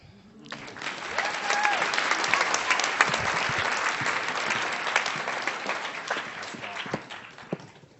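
Applause for semifinalists at a business challenge event, dense sustained clapping from a large audience that starts abruptly, holds steady and then tapers off toward the end.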